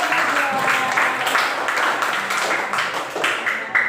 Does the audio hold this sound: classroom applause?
yes